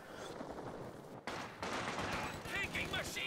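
Machine gun fire in a Company of Heroes-style WWII strategy match on the British front, with rattling bursts and distant battle noise under a commentator's continuous talk.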